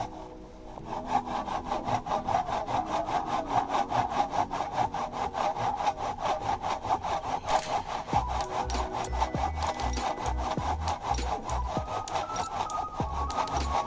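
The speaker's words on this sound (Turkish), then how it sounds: "Odun kesmeye devam ediyoruz." A hand saw cuts steadily through a dry dead tree for firewood at a riverside campsite, with rapid rhythmic rasping strokes close and loud throughout. Low knocking thuds join in the second half, and no voices are heard.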